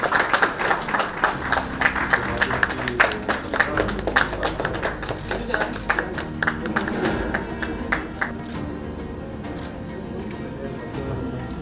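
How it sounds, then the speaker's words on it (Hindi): Loud, sustained applause from an audience at a women achievers' award ceremony, dense clapping welcoming an honoree and slowly thinning toward the end. "जोरदार तालियां।"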